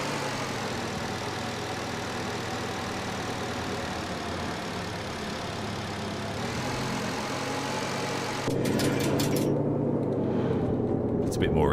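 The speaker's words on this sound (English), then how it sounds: "This car sounds like shit because it has the worst exhaust ever." A tractor in the Car Dealer Simulator video game idles with a bad, rough exhaust, a steady low drone that runs continuously and gets slightly louder and harsher near the end.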